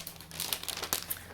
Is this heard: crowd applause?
no